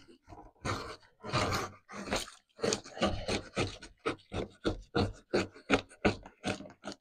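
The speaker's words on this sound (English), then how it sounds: "I'm just gonna come along and trim some of this stuff off" A blade trimming excess material off a freshly molded RC dragon part with repeated rasping strokes, several long drawn scrapes followed by a faster run of short, rhythmic cuts, close up and alone.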